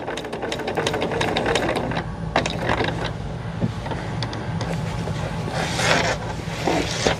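A sewing machine stitching the handle of a tester bag, a rapid close mechanical whir of the needle that runs in bursts with brief pauses and small clicks between passes.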